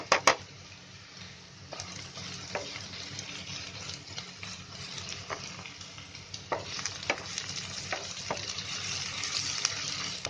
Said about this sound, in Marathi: आता त्याच्यामध्ये अद्रक लसूणची पेस्ट टाकते. हा गरम मसाला घेतलाय थोडासा.